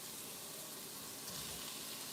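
Sausage from a pack sizzling in a hot pan while cooking West African red rice, a steady, fairly faint hiss of frying fat running without pause.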